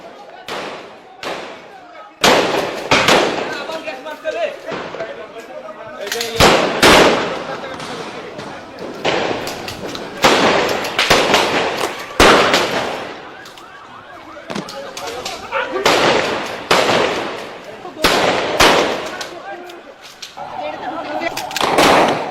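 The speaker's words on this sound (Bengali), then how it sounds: "হাজার হাজার রাউন্ড গুলি, টিয়ার শেল, গ্রেনেডের মুহুর্মুহু শব্দে প্রকম্পিত হয়ে ওঠে রাতের মতিঝিল" Gunfire, tear gas shells and grenade explosions at night in Motijheel during the 5 May 2013 crackdown: loud, rapid, repeated blasts and cracks over a constant rumbling din, with some bursts clustered close together.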